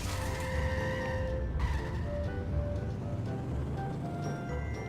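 Car engine and tire skids from The Simpsons Hit & Run video game, a dense steady drone of motor and screeching tires mixed with game sounds, continuous and fairly loud throughout.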